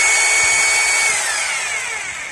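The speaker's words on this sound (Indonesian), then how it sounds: "sekarang saya akan mencoba untuk menghidupkan mesinnya dulu untuk melihat drillnya bisa ngedrill atau tidak" A Maktec MT870 rotary hammer drill runs in plain drill mode with a smooth, steady high whine, loud and close, easing slightly as it continues alone.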